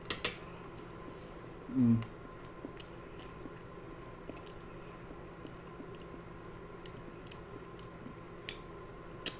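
Soft, wet chewing of mushy sweet potato from a pot roast close by, with one squishy bite early on and faint clicks in an otherwise quiet room.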